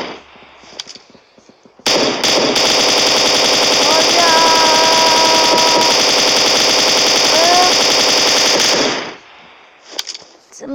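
Sustained loud automatic gunfire in a video game, a continuous rapid burst lasting about seven seconds with brief quieter game noise before and after.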